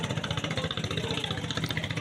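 A fishing trawler's engine chugs on the Meghna river in light rain, a steady, fairly loud, rhythmic low-pitched throb that holds constant with no talking.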